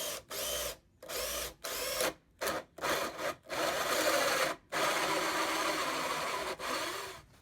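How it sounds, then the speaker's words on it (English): A cordless drill bores through scrap wood for a bird house, whirring in several short bursts and then one longer continuous run, close and loud, with brief stops between pulses. "One short check again and let's drill it out."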